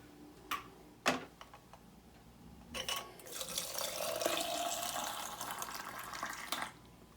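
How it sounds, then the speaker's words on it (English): A glass canning jar is lowered into a water-filled canning pot: a few light clinks and knocks, then a rushing, bubbling swirl of water for several seconds, close and moderately quiet. "Now I'm going to place this into the canning pot."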